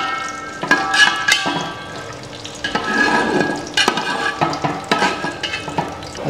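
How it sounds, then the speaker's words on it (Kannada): Cloves and cashews fry slowly in hot ghee with a steady soft sizzle, broken by clattering stirs and scrapes of a spoon against the pan, close and fairly loud, with no voices. "ಅದು ಸ್ವಲ್ಪ ಫ್ರೈ ಮಾಡ್ಕೊಳ್ಬೇಕು ನಿಧಾನಕ್ಕೆ"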